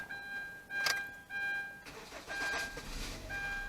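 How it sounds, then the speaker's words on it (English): A 2013 Kia Forte with a crank-but-no-start fuel problem, sprayed with starting fluid, cranks briefly and then catches into a steady, close engine run with a faint beeping tone in the background. "It does start, as you can hear that"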